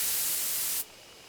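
A sprayer discharging a sleeping drug at a beehive in the video game Spirit Hunter: Death Mark, heard as one steady, loud hiss of spray that cuts off abruptly after under a second, leaving quiet.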